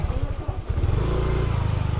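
A new motorcycle used by a Lalamove delivery rider runs close by, its engine a steady, loud low-pitched throb with a rhythmic pulsing idle and a brief clatter at the start.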